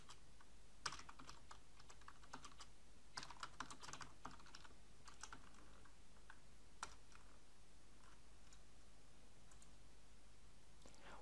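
Computer keyboard typing, quick irregular bursts of soft key clicks with short pauses, fairly faint and close, no talking.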